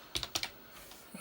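A few quick keystrokes on a computer keyboard at a vintage SC/MP machine, four crisp clacks in a short burst followed by quiet, then one faint extra tap.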